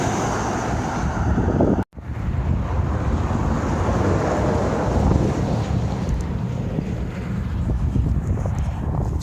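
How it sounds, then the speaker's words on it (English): Strong wind in New Mexico buffets the microphone with a loud, constant roar and low rumbling gusts, cut by a brief drop near the start, then blowing on steadily with no voices. "the wind is really kicking up"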